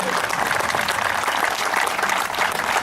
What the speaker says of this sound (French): Je vous demande encore une fois de les applaudir très très fort.